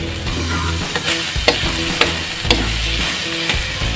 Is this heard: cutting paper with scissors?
no